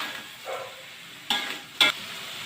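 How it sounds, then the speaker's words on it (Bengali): Cauliflower frying in a pan with turmeric, ginger and garlic, a faint close sizzle broken by two sharp scrapes of a spoon stirring, with no voices. "এবার এটাকে কষাতে হবে।"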